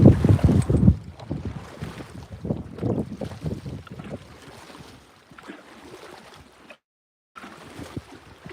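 Wind buffets the microphone while trout fishing from a boat on Ochoco Reservoir in snow, heavy low rumbling gusts at first that ease into a steadier whoosh with a brief dropout.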